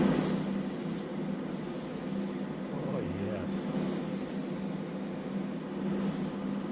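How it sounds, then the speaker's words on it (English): Createx airbrush paint sprays in light coats onto a Hot Wheels 1969 COPO Corvette, short hissing bursts starting and stopping several times at close range. "Okay, I see how it sprays now. So you have to do light coats."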